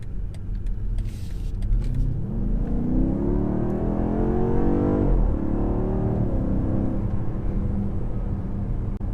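A 2021 BMW X5M Competition accelerating hard from a standstill, its engine note climbing steadily in pitch through the gears with a deep, muffled roar heard from inside the cabin.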